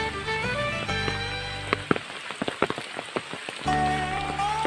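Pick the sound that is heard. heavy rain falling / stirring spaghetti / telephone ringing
heavy rain falling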